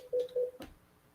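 Two short touch-tone dialing beeps, close and clear, followed by a soft click as a phone call is placed, with no talk over them.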